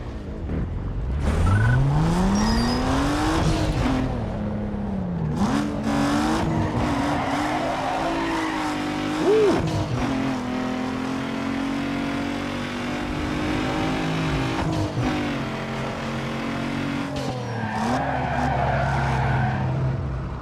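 Toyota Corolla racing in Need for Speed Underground 2, its engine note climbing through gears and holding a steady loud drone, with tire squeals and skidding breaking in near the end, no talk over it.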